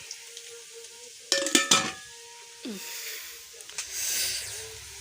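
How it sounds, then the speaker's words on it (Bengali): Potatoes frying in a pan in a home kitchen, with a steady sizzle, bursts of louder crackling and stirring scrapes partway through. "এই যে আলু ভেজে দিচ্ছি"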